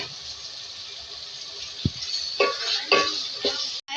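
Ginger-garlic paste with turmeric and salt fries in a pan, a soft steady sizzle broken by a few sharp scrapes and clinks of a spoon stirring against the cookware.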